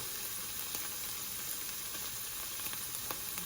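Spices sizzling in a hot pan while cooking chana dal with bottle gourd, including chili powder, garam masala, coriander and cumin powder; a steady, even frying hiss runs throughout with faint crackles and no voices.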